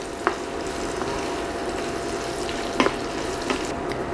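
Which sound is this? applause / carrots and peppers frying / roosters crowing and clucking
carrots and peppers frying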